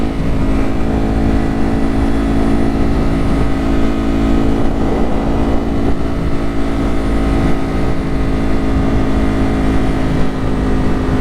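A Ducati Hypermotard motorcycle engine runs loud and close on a road, holding a dense, steady roar throughout with no voices heard.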